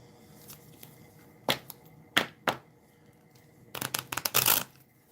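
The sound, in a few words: shuffling playing cards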